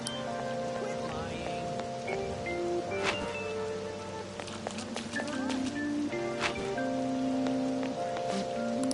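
Steady rain falls in the Persona 5 Royal video game, a continuous wash of patter running under game music tones and a shopkeeper's spoken greeting.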